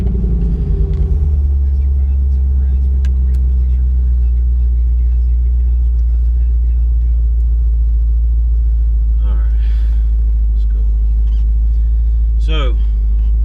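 A Corvette cruises along the road with a deep, steady engine rumble close by, while people talk over it throughout.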